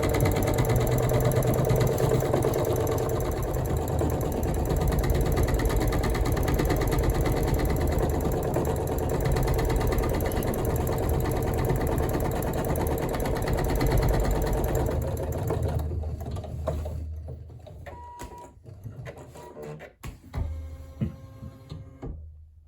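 A Singer EM200 embroidery machine runs at a steady, loud mechanical hum with rapid needle chatter. It winds down near the end into a few scattered clicks and knocks.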